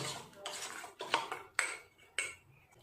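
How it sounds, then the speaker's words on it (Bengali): A spoon scrapes and clinks against a bowl while ginger, garlic and onion pastes are mixed with spices for a KFC-style fried chicken marinade. The stirring is close and fairly soft, with several sharper knocks on the bowl and no talking. "পেঁয়াজ বাটা দেব দু চামচ পরিমাণ খুব ভালো করে মশলাটা মিশিয়ে নেব"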